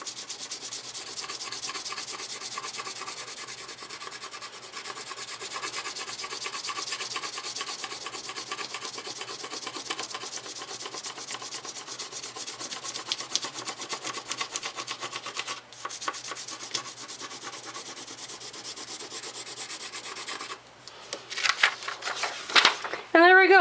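Crayon rubbed steadily back and forth across paper laid over a soft nature item, making a continuous close scratchy rasp, then a few louder handling rustles near the end. A voice talks softly throughout.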